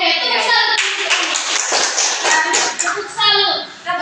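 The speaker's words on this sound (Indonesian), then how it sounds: "tepuk tangan dulu untuk kalian" A class of children claps together in a rhythmic cheer, loud and close, mixed with the children chanting and shouting along.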